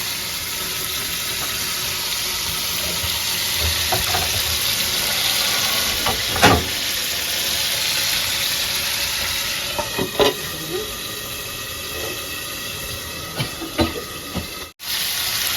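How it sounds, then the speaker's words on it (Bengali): Eel fish frying in a pan makes a continuous close sizzle with occasional spatters and clinks of a utensil, and no one speaks. "মাছটা একটু কষাই তারপরে ঢেকে দিয়ে"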